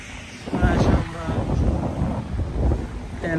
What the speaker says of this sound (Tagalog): ang lamig, ang lakas ng hangin, saka ang lamig